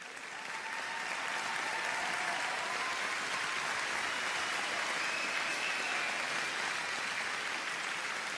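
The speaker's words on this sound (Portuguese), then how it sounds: "Vamos dar uma salva de palmas bem forte para Jesus agora." Loud, sustained applause from a church congregation, a dense wash of clapping that swells in within the first second and holds steady and full to the end, with no talk over it.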